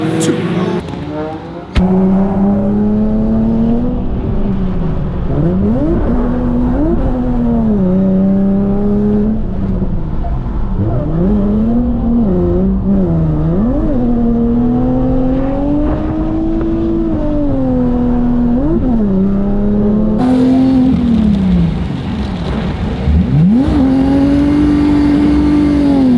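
A drift car with its clutch slipping in third gear accelerates hard, the engine note loud and close, sweeping up and down in sustained revs for the whole stretch.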